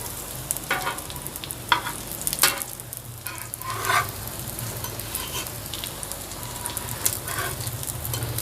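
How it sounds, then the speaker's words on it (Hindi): Bread-crumb-coated potato cutlets fry on a griddle with a continuous close crackling sizzle, sharper spits and pops scattered throughout, and no talk. "अब मैं ब्रेड क्रम्स वाली टिक्कियाँ फ्राई करूँगी।"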